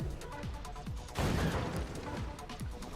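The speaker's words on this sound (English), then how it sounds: "The cannons begin already" Cannons in the strategy game Forts fire in a quick, uneven string of thumps and booms, building into a denser burst of gunfire partway through, with faint voices mixed underneath.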